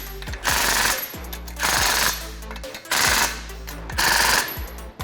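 An impact wrench tightens 12mm wheel lug nuts while BBS Unlimited wheels are fitted, firing in four loud, sustained hammering bursts of about a second each, separated by short pauses.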